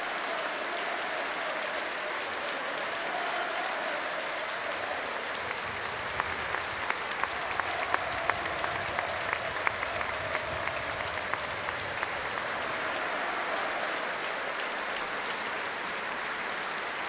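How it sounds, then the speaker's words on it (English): Stadium crowd at a Watford football match applauding for a club legend, a sustained wash of clapping from thousands of hands, fairly distant and steady, with some sharper claps standing out in the middle. "please show your appreciation for a true Watford legend with a mix of applause"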